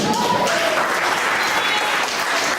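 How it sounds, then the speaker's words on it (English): A room full of wedding guests claps steadily in sustained applause, with faint voices mixed in. "Give yourselves a round of applause, please."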